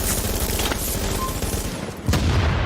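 A Lone Star enemy in a shooter opens up at point-blank range, letting off a sustained burst of rapid, close, loud automatic gunfire that swells again near the end, with no voices present.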